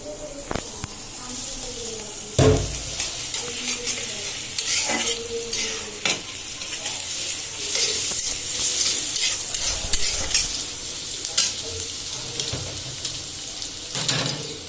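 Onions frying in a pan for a pabda fish recipe: a continuous loud sizzle with repeated scraping and stirring knocks from a spatula, and some faint voice in the background.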